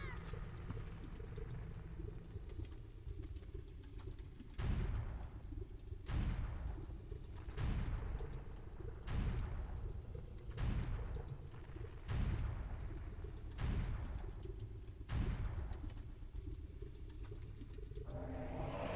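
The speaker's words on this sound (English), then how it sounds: "I'm going to go ahead and drop a bomb right there" Bombs go off in The Legend of Zelda: Ocarina of Time to blow open a wall, making a series of booming blasts at fairly regular intervals over a continuous game background.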